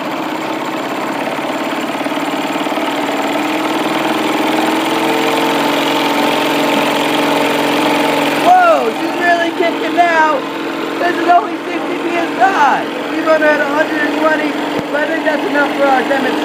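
A small compressed-air engine weighing 1.4 kilograms runs steadily at close range with a constant droning hum, its pitch shifting slightly partway through as faint chirping sounds appear over it.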